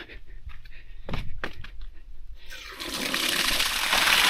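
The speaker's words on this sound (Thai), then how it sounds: "น้ำมาแล้วทุกคนนี่เขาสามารถเปิดน้ำได้นะครับ" Water released from a weir surges through with a rising rush, starting after a few thumps and building into a loud, steady roar of flowing water.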